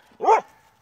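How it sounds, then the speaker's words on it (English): A single short, sharp bark from an Airedale Terrier, close and clear against a quiet background. "leave that dog alone, Duke."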